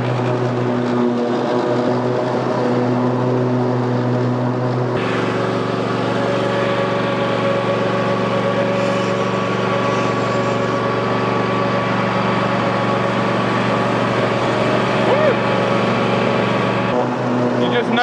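Engine of a Cub Cadet XZ6 zero-turn mower with a steering wheel drones loud and close as it drives around a tree, a steady tonal hum that shifts pitch midway; a voice talks over it.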